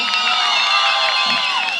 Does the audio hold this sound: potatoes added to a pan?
no